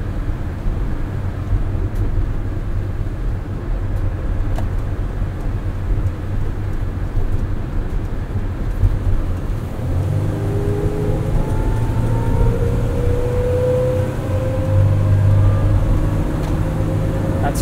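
A 2019 Mercedes-Benz Sprinter 3500XD crew van accelerates at full throttle, a steady engine drone with road and wind noise heard from inside, rising in pitch toward the end.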